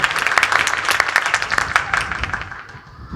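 A live audience at a Hindi kavi sammelan poetry recital gives a short burst of steady, close clapping that fades out after about three seconds.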